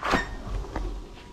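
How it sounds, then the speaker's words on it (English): A starboard access door on an Almtrawler 1600 steel explorer yacht opens with a brief close latch clunk and a couple of soft knocks, over a steady background rumble. "Going through the starboard access door."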